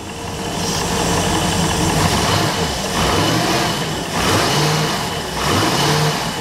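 A Ford ski boat engine with a faulty distributor whose timing fails to advance, revving up and down in several loud, close surges over a rough idle.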